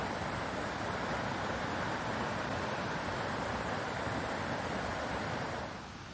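The wide Arkansas River at Hutchinson, Kansas, flows with a steady broadband rush of water, mixed with wind buffeting, holding constant before easing slightly at the very end.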